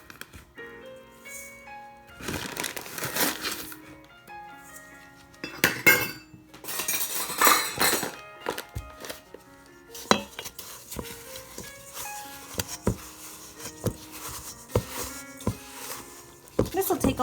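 Butter is mixed with brown and white sugar in a bowl for snickerdoodle dough, heard as repeated scraping and clinking of a utensil against the bowl in uneven bursts, with a person talking intermittently.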